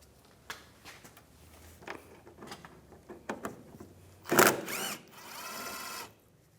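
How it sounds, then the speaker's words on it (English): A power drill with a 7mm socket backs out the side panel bolts on a 2015-2019 Lincoln MKC, sounding as short scattered clicks and taps followed by two loud whirring bursts of the drill, the second held for over a second. "You're going to need to use a 7mm socket. Take these bolts out."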